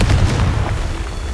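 Confringo spell explosion in Hogwarts Legacy, a loud, close, deep boom with a rumbling low-end burst that fades over about a second.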